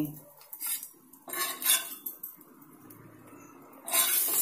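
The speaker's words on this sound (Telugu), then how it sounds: "ప్లేట్లోకి సర్వ్ చేస్తాను నేను ఇప్పుడు ఒక్కొక్కటి తీసుకొని ఇలా పెట్టేసుకొని" Utensils clink against a plate as tawa idli, a Hyderabadi street food, is served piece by piece, giving several light, close metallic taps and scrapes with short gaps between them.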